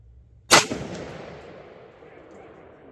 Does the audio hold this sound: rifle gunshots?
yes